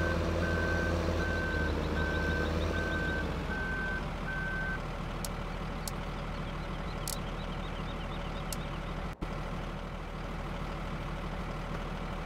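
In Farming Simulator 15, a reversing tractor sounds a loud series of evenly spaced beeps over its steady idling engine, then the beeping stops and the engine keeps running alone.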